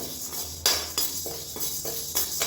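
Urad dal being dry-roasted in a pan, stirred so the utensil makes repeated bright metallic scrapes and clinks at an uneven pace, close and fairly clear, with no voices.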